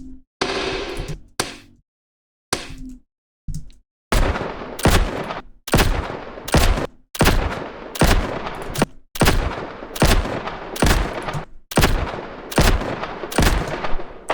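Gunfire sound effect built from pitched-up swooshes, a series of about a dozen loud, sharp bursts that start sparse and then settle into a steady rapid rhythm, each with a hissing high-end tail.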